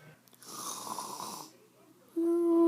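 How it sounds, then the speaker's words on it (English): A single rasping snore swells and fades over about a second, followed by a quiet pause and then a loud, steady electronic tone. "snoring."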